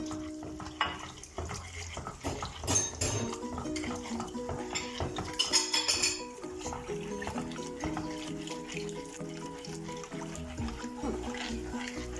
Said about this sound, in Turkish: İyice karıştıralım topaklanma olmasın.